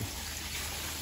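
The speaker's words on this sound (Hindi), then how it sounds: "बर्तन साफ करके पानी डाल रहे हैं" A brief splash of water being poured into freshly washed vessels, a soft continuous wash of liquid noise.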